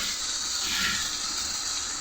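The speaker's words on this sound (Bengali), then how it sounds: "পুঁই শাক রান্না হচ্ছে, আর সব রান্না হয়ে গেছে।" Malabar spinach (pui shak) cooking in a pan, giving a steady, fairly loud hiss and sizzle of steam that holds evenly from start to finish, with no talking.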